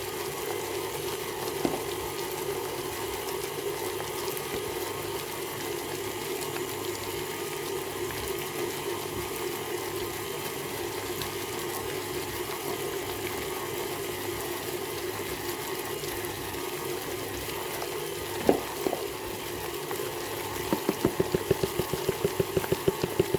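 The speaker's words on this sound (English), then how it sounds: "with a stand mixer it becomes a whole lot easier" A stand mixer churns a thick Christmas pudding mixture in a steady, continuous whir, with a few brief clunks near the end.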